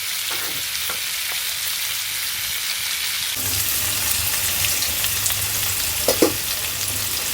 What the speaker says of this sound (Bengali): বাঁশকরলগুলোকে এখন তেলে ভেজে নিতে হবে